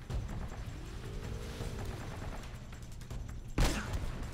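An infinite grenade gun fires in Uncharted, a single heavy boom near the end breaking over rattling gunfire and game noise.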